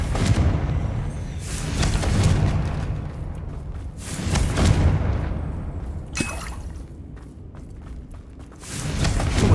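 Confringo fire spell blasts in the video game Hogwarts Legacy, a series of loud booming impacts that repeat every couple of seconds over rumbling combat noise, with a sharp crack near the end.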